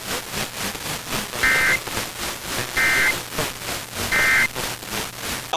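Emergency Alert System weekly test broadcast on radio: three short, buzzy data bursts, evenly spaced, over a loud continuous static hiss.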